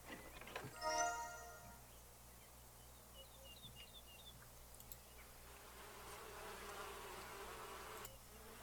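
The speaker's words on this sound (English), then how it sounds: "Those bees look angry." Angry bees in a video game make a faint, steady buzzing drone under a soft ambient backdrop, with a brief louder rattling burst near the start and a few high chirps midway.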